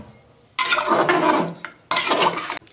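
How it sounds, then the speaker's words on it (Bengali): Khichuri in a pressure cooker is stirred with a utensil after water is added, making two loud bursts of wet scraping and sloshing, the first longer, with a short clink between them and no talking. "এবার এইটাকে নেড়ে তারপরে চাপা দেবো।"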